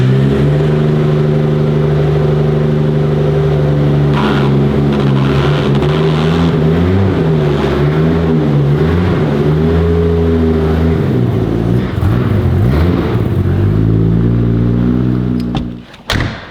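A car engine idles loudly and steadily in a garage with repeated revs swelling and falling, then cuts off abruptly near the end.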